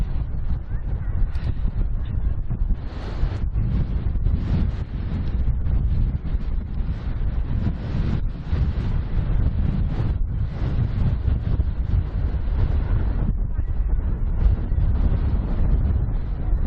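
Strong wind on Ilkley Moor buffeting the microphone in a dense, low roaring rush that runs continuously at high level, with gusts swelling and easing throughout.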